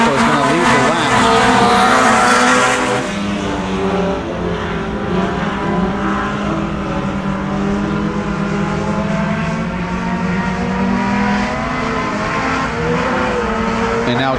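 Mini stock race cars roar around the Genesee dirt track, a continuous loud engine drone with shifting pitch as cars pass, while an announcer talks over the racing.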